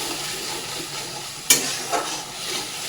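A paste of ground tomato, ginger and chilli stir-fries in oil with a steady nearby sizzle, broken by one sharp spatula scrape and a softer stir afterward.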